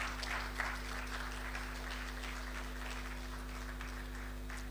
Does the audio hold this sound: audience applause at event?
yes